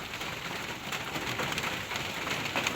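Heavy rain falling outdoors, a dense, hissing wash of drops on surfaces, steady and fairly faint with no talk.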